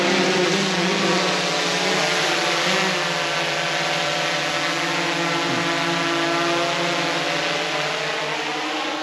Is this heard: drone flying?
yes